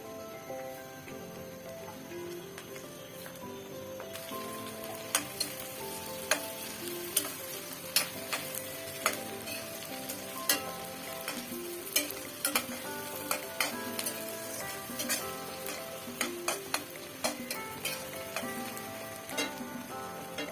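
Chopped garlic and onion fry together in a pan, giving a steady close sizzle with frequent clicks and scrapes as the mixture is stirred, and no talking.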